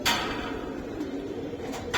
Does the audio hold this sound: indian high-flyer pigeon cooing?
yes